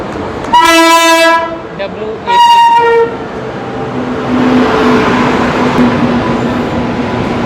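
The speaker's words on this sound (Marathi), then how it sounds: "15 मिनटं म्हणता 20 मिनटं उशिरा आपली ट्रेन मथुरा जंक्शनवर आली" The Gondwana Express pulls into Mathura Junction, sounding two loud blasts of its horn, then the rolling rumble and squealing wheels of the coaches passing close by along the platform.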